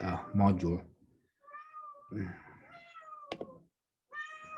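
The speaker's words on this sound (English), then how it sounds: "Sorry, that's my cat." A house cat meows several times, clear tonal cries close to the microphone, breaking into a man's speech during an online lesson; his talking comes before and around the calls.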